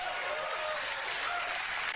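A crowd applauding and cheering at a public event, carried in a played-back recording; dense, steady clapping with raised voices holds fairly loud and continuous throughout.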